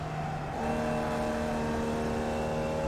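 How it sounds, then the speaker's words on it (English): Race car engine at Laguna Seca droning steadily and close, its tone stepping up as the driver makes a lazy upshift into fourth, then holding an even pitch as the car coasts toward a corner. "rolling onto the throttle, nice and smooth, nice lazy upshift to fourth"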